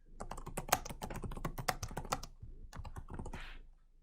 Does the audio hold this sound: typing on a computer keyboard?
yes